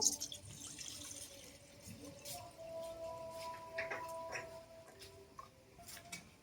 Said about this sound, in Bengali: এরপর আমি জলগুলো ভালো করে ধুয়ে ফেলে দেব